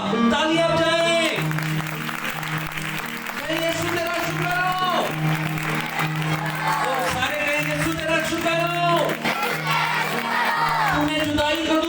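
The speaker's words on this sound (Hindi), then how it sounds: "तालियां बजाएं।" Worship crowd at a children's conference in Rawalpindi cheering and clapping along with music, a loud continuous wash of voices and claps over a steady musical drone throughout.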